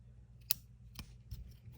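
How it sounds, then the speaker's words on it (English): Dull scissors snipping the rough ends off a homemade lighter wick, a few sharp close snips spaced about half a second apart in a quiet room. "And now snip the rough ends off."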